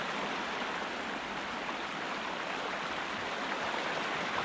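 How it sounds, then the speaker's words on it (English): Loud, steady rushing water in the Roman baths of the Frigidarium in Sherlock Holmes: Crimes and Punishments, a constant broadband roar filling the whole clip with no breaks and no voices. "I can't hear you over the loud sounds of the water."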